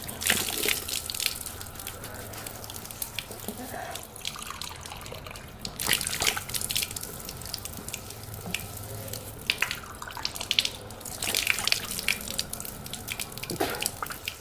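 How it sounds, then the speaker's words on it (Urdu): Water runs steadily from a tap and splashes as a face is washed during wudu, with irregular louder splashes and drips throughout, close by and without talking. "اب میں پورا چہرہ دھوتا ہوں۔"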